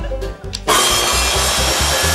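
A power saw in a comedy sketch starts abruptly and runs loud and continuous, its harsh buzzing whine cutting steadily through wood.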